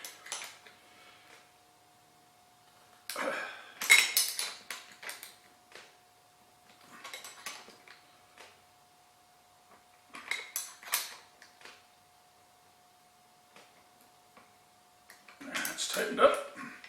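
Wrenches working on bolts while an anvil is mounted to an old stump: short bursts of metallic clinking and ratcheting separated by pauses, fairly close, with a faint steady hum in the background.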